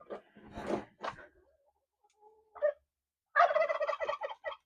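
A turkey gobbles in a farmyard, a short rattling burst followed by quieter calls and a longer, loud gobbling run at the end.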